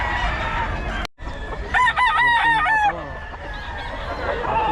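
A gamefowl bull stag rooster crows once loud and close, a long wavering cock-a-doodle-doo in the middle, with farmyard background noise around it and brief talk before and after.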